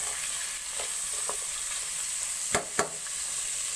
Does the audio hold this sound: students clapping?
no